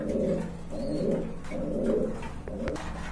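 Pigeons cooing close by in a loft: three or four rhythmic, low, throaty coos in quick succession, with a short sharp chirp near the end.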